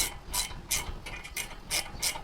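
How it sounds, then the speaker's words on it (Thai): A ratcheting wrench works a size 13 nut on a Sportster motorcycle, giving quiet, rhythmic bursts of clicking as the wrench swings back and forth, about six even strokes. "ไขน็อตหางปลาก่อน เบอร์สิบสาม ไขน็อตหางปลาก่อน"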